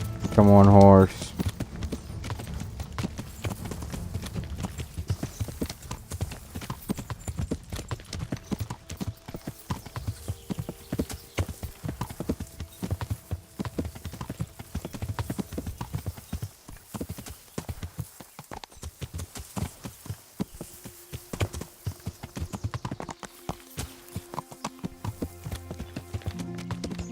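Rhythmic clip-clop of horse hooves galloping over ground in the medieval video game Kingdom Come: Deliverance, steady and close throughout, with occasional game sounds and someone talking over it.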